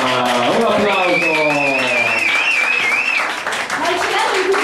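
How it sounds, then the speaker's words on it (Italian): Applause and cheering rise from the audience at a poetry slam night, mixed with a voice speaking over it early on; the clapping continues loudly to the end. "Un applauso."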